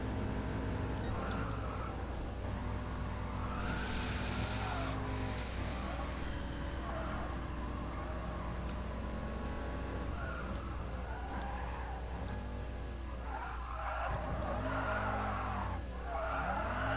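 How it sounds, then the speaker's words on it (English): A car drifting in Gran Turismo Sport, a video game: long wavering tire squeal and skidding over a steady engine drone, rising and falling through the slide, with a voice talking faintly underneath. "That was a really good drift, in my opinion."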